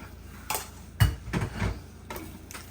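Pasta being tossed with shrimp scampi sauce in a pan, a few soft clinks and scrapes of utensils against the pan spaced irregularly, quiet and close, with no speech.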